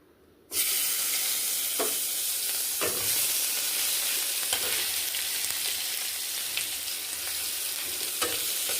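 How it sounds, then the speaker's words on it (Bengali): Onion paste hits hot oil with a sudden loud sizzle that keeps frying steadily, broken by a few scraping stirs, with no voices. "এখানে আমি তেল দিয়ে দিয়েছি আর পেঁয়াজ বাটা দিয়ে দেবো তেলের উপরে"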